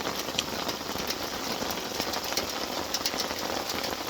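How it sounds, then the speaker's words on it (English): Hail falling steadily in the Rocky Mountains, a dense, continuous pattering and clattering on the ground and surfaces nearby, with scattered sharper ticks standing out from the constant hiss. "Wow, the hail's really coming now."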